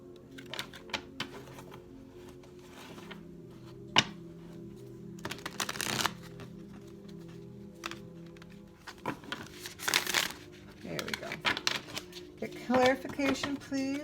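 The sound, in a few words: shuffling a thick tarot card deck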